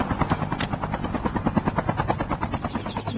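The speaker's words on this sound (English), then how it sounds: "Red, bring the chopper, please." A helicopter in the Call of Duty Mobile video game thumps close and loud with a rapid, even rotor chop that pulses continuously throughout.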